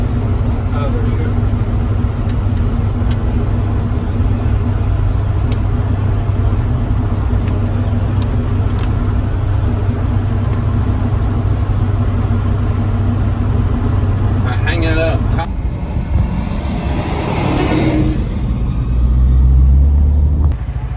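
A 1965 Chevrolet C30 dually truck engine rumbles steadily at idle, deep and continuous close by, with a brief clatter and shift in tone near the end.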